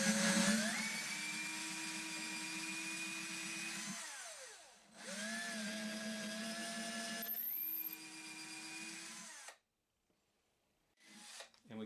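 Electric drill boring a hole in the wooden body of a Martin acoustic guitar, a high, steady whine that climbs in pitch as the bit bites, broken by short pauses and quick restarts.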